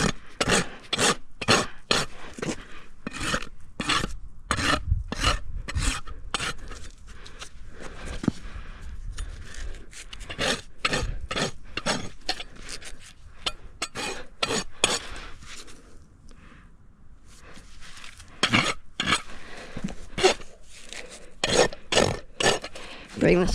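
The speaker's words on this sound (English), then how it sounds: "smooth it out with my rasp" A hoof rasp smoothing a horse's hoof during a trim, with repeated rough scraping strokes in steady bursts, close and fairly loud, pausing briefly midway before resuming.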